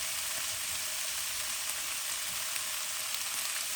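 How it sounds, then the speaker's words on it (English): Onion, garlic, ginger and chili fry in a pot for a Fijian-style lamb shank dish, giving a steady, even sizzle that runs close and unbroken throughout with no voices. "let the garlic ginger chili and the onion cook off for about 2 to 3 minutes now"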